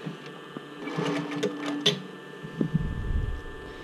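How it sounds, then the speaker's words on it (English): A sewing machine runs a zigzag stitch across a swim top band in short, quiet bursts, its mechanical chatter broken by pauses and a few handling noises. "let me get my trusty zigzag going."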